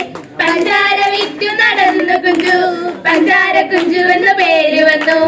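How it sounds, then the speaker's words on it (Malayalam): An audience at a temple festival comedy show claps steadily in time while voices sing a folk song, the rhythmic hand claps running under the loud singing throughout. "ഒന്ന് പാടി താളത്തിന് കൈയടി കൊടുക്കണേ"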